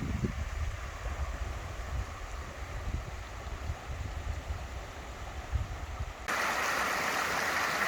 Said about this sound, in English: A lovely little tributary stream.